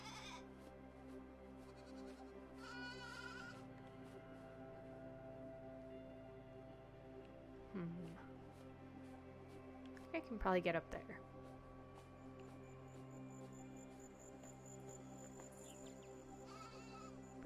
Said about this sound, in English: Oh my god, look at the sheep.